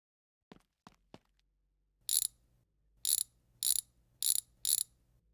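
Several short ratchet-wrench clicks sound first, then five evenly spaced loud bursts of mechanical ratcheting as car tires are removed in My Garage, clear and isolated against near silence.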